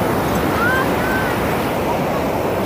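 Ocean waves roll continuously onto the beach at Puri, a steady, loud wash of surf with wind noise across the microphone and no break throughout.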